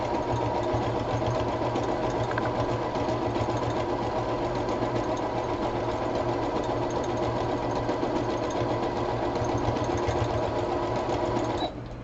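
A sewing machine stitching a small fabric crumb square, running at a steady fast whir with a constant mechanical hum and rapid needle rhythm, close and continuous before stopping abruptly at the end.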